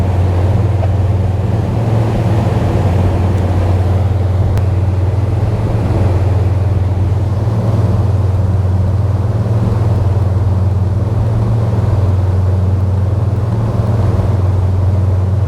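Twin engines of a 2020 Sunseeker Manhattan 52 motor yacht drone steadily at about 22 knots at sea, a deep constant hum mixed with rushing water and wind noise, with no talking.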